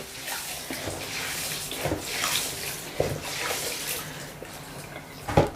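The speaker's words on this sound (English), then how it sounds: "All I do is to wash it with warm water" Raw rice is washed by hand in warm water for jollof, with sloshing and swishing splashes in a bowl and a few sharper knocks, close and steady, with no talking.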